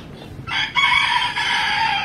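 Several chickens cluck and a rooster crows loudly and close by on a farm terrace, a steady chorus of fowl calls that rises sharply after a brief quieter start and carries on without pause.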